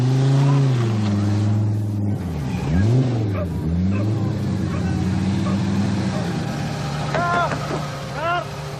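Opel Ascona 400 rally car approaching along a gravel rally stage, its engine note rising and falling with gear changes as it draws nearer, loud and continuous with brief high chirps near the end.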